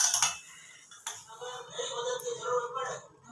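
A utensil stirs stuffed bitter gourd simmering in a pot. It gives a few sharp metallic clinks and scrapes, a loud one at the start and another near one second, then lighter tapping and bubbling.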